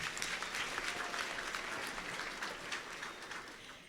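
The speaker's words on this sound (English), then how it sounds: "Please give him a nice round of applause as well." Audience applause at an employee awards ceremony fills the space, many hands clapping steadily at moderate volume, tapering slightly toward the end.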